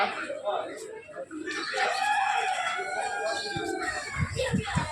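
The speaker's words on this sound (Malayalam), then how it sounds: "നമ്മുടെ നാട്ടിലെ പടക്കോഴിയാണ്. പൂവൻകോഴി ഉണ്ട് കേട്ടോ." A native fighting rooster crows at a farm in Bahrain, a drawn-out call heard fairly close, with hen clucks and chicken sounds near the end and people talking in the background.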